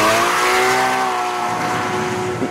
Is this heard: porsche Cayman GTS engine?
yes